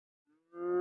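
A cow lows in a farm paddock, a short faint grunt followed by a rising, loud, close moo that is still building when the sound cuts off, with no voices.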